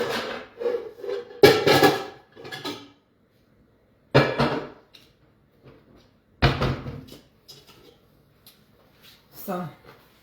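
A pan is pulled out in a home kitchen, giving a few loud separate clanks and knocks of metal and cupboard with quiet gaps between them.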